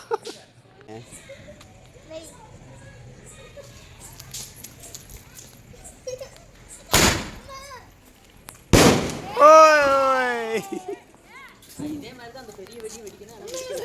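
Several sharp Diwali firecracker blasts go off nearby, two very loud bangs followed by crackling, with people talking and calling out around them.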